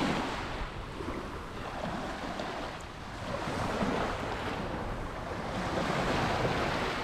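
Sea waves wash onto the shore at Fukuoka, a broad continuous roar of surf rising and falling slowly, with wind buffeting the microphone and no voices.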